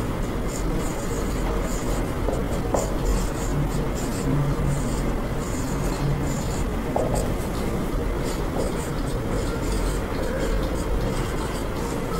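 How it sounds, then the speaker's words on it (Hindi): Strokes of writing on a board as a teacher puts down a physics formula for converting temperature in a classroom lesson; light scratchy marks sit over a steady, noisy background hum throughout. "अब इधर देखो, एक फॉर्मूला लिखता हूं"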